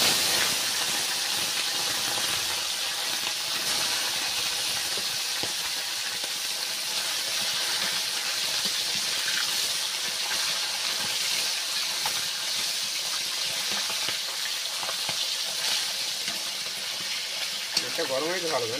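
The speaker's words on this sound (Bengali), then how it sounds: "এবার কড়াই কিন্তু তেলটা গরম হয়ে গিয়েছে, এবার মাছগুলো আস্তে আস্তে দিয়ে ভেজে নেব।" Tilapia fish frying in hot oil in a wok, a loud continuous hiss and crackle that holds steady throughout at close range, with faint voices underneath.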